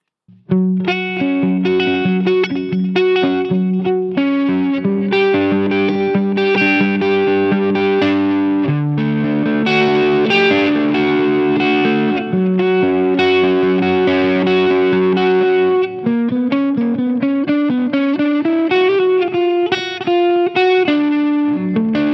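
Electric guitar playing through a TC Electronic Plethora X1 multi-effects board using Flashback echo, vintage echo and pipeline tremolo effects, sustained melodic notes with chorus-like repeats, loud and continuous throughout.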